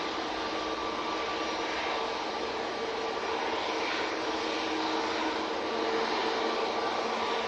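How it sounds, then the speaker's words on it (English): Aer Lingus airliner touching down at Manchester Airport gives off a steady, distant jet roar that swells slightly toward the end, with no voices. "I can see the Aer Lingus just about to touch down."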